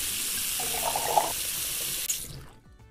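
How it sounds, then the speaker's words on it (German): Tap water runs into a sink in the Cooking Simulator video game, a steady hiss that swells into a louder filling burst near the middle and then stops abruptly, with no voices over it. "kann man ja richtig mit Wasser füllen"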